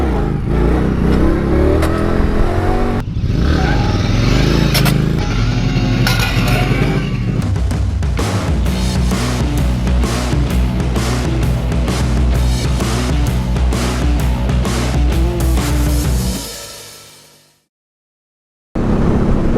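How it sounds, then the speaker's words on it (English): A brand new Indian Scout Bobber motorcycle engine revs loudly up close, its pitch rising and falling through repeated throttle blips and steady pulls before cutting off abruptly near the end. "Today we're out here for a first ride on the brand new Indian Scout Bobber."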